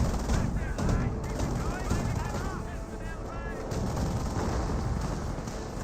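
Battle din from Company of Heroes: dense bursts of gunfire and mortar blasts under a busy mix of in-game voices and chatter, loud and continuous throughout.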